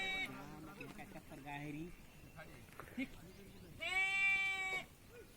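Sheep bleat several times from close by, with a loud wavering bleat near the end, while someone talks over the flock.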